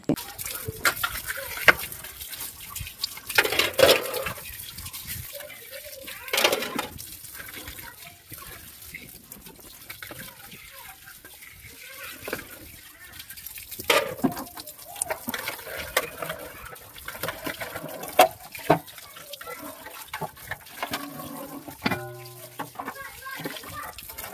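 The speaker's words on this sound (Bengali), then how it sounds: "তো বেশ ভালো করে সাবধানে আমি মেজে ঘষে নিয়ে এখন ধুয়ে নিচ্ছি" Water splashes and trickles while refrigerator holders are rinsed after scrubbing, intermittent sloshes and drips at close range over background ambience, with occasional faint voices.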